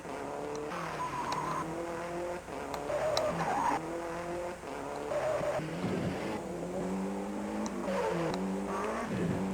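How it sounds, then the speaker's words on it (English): A rally car engine on the Monte Carlo stage of the World Rally video game drones loud and continuously, rising and falling as it revs through gear changes, with tyre squeal mixed in and no talk. "It's such a powerful, meaty engine noise."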